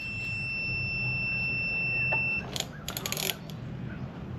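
Steady high-pitched continuity tester tone on a 1971 Johnson 25hp outboard ignition wire, sounding for about two seconds before cutting off, followed by faint clicks and handling noises.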